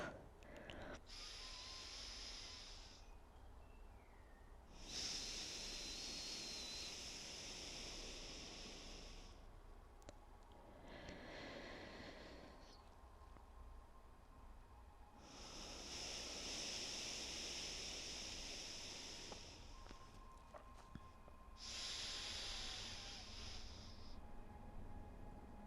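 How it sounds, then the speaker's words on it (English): Slow, deep breaths during a yoga session, three long airy inhale-exhale cycles spaced several seconds apart, soft and close in an otherwise quiet room. "let's take 3 breaths."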